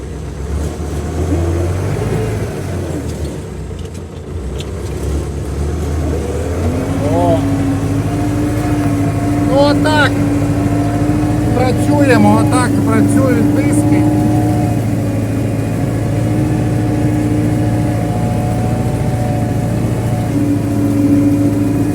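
An MTZ-80 tractor pulling 2.5 DAN disc harrows over stubble, heard from inside the cab: a loud, steady diesel drone with a shift in engine note partway through, and someone talking over it.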